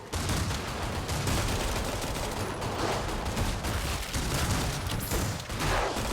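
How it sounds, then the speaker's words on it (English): Dense, continuous gunfire crackles in the Hellmark Station shooter video game, overlapping bursts from multiple weapons forming a loud, unbroken fusillade. "Simple Rabbit must be hitting like every headshot imaginable right now"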